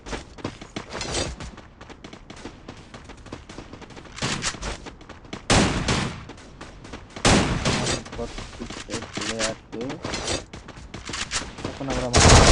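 Gunfire from another player in a battle royale video game, dense repeated shots and bursts with loud peaks over a continuous busy game soundscape, while a voice talks over it.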